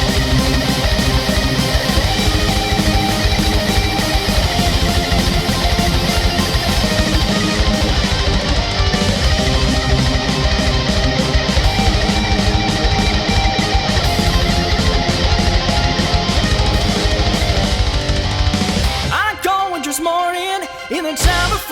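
Dense, loud metal guitar playing along with a full backing track, a song's intro, continuous and busy for about nineteen seconds before breaking into a brief, sparser change at the end.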